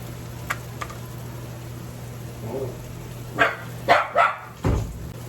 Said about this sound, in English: the dog is in a cage and started barking